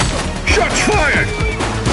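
Gunfire and impacts crack through a chaotic police shootout in The Precinct on PS5, loud and dense, with shouting voices overlapping the shots.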